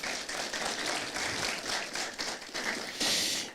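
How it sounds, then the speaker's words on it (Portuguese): Audience clapping for a panel speaker at a conference on decarbonizing urban public transport, moderately loud and uneven over a few seconds, swelling briefly near the end. "Uma salva de palmas."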